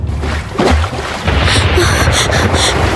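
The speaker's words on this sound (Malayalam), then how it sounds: "നമ്മുടെ വള്ളം മറിയും ഈ തിരമാലകൾ നമ്മളെ മുക്കി കൊല്ലും" Surging sea waves wash around a small boat in a radio drama storm scene, a steady loud rush with swells rising and breaking, heavier in the second half, with no voices.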